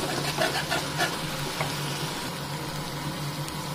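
Garlic and ginger paste fries in a pan for a Bengali-style cauliflower roast, a steady close sizzle with a few soft stirring scrapes near the start.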